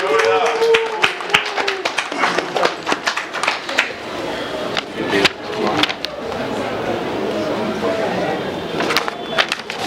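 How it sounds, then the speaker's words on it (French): An audience at a labor inspectorate handover ceremony in Kinshasa breaks into scattered clapping that builds into sustained applause, with voices and cheering mixed in. "Je demande vos acclamations."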